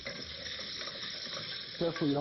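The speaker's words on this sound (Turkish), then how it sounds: "Pekala, kızartmaya devam edelim." Chicken with curry paste sizzles steadily in a hot pan, a continuous crackling hiss, before a voice starts talking over it near the end.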